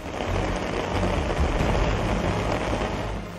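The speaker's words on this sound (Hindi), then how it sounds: "दोपहर बाद अचानक हुई बारिश और तेज हवा का असर तेज रहा।" Sudden afternoon rain with strong wind in Jharkhand, a steady broadband hiss of rainfall pattering on surfaces, continuous and fairly loud throughout with no talk.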